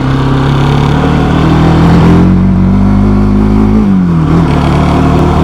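A motorcycle labors up a high-altitude mountain road near the Gata Loops in Ladakh, its engine note droning loud and close, climbing in pitch then dipping as it works uphill, with no talk.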